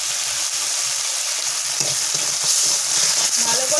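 Masala of chilli powder, turmeric and salt fries in hot oil for lote fish curry, giving a steady close sizzle with soft stirring scrapes throughout, no talk.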